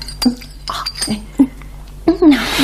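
Small teaspoon tapping against glass while almond-flavored syrup is served from a little bottle, several sharp, bright clinks spaced unevenly, close and loud, with speech between them.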